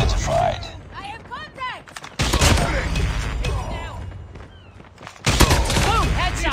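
Gunfire rattles through a hardpoint match in a shooter video game, with dense bursts and sharp shots in loud stretches, cut by brief pauses, with voices calling out over it.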